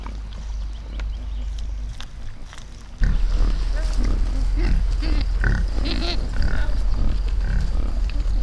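A pig grunts repeatedly on a Corsican mountain route. Snorts and grunts come close and fairly loud over a steady low rumble that gets stronger partway through.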